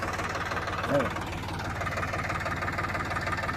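A Sonalika RX50 tractor engine chugs steadily with a deep, throbbing low rumble and a slight knocking rhythm, running close by for the whole stretch.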